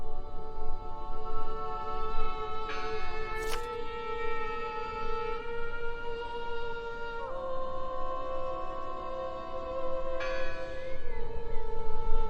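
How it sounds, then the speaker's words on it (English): A church bell in Draugen rings out with several long, resonant strikes whose tones hang and decay over a quiet background, each new stroke sounding clearly on its own. "Listen! The bell! They're still in there!"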